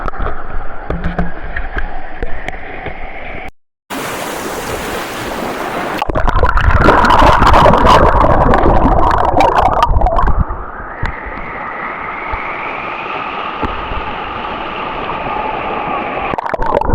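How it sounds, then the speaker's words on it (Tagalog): Strong current in a clear river, heard from underwater, makes a continuous broadband rush and churn that swells and briefly turns bubbly before settling back into a steady surging flow. "Malakas ang agos ng tubig sa ibaba."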